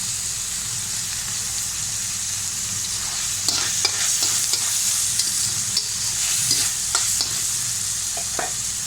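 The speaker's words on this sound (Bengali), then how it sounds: "এখন সব কিছু ভালোভাবে চিকেনের সাথে মিশিয়ে নেব।" Chicken, peas and vegetables for vermicelli chow mein fry in a pan while a utensil stirs them, with a steady sizzle under a run of brief scraping strokes. No one speaks.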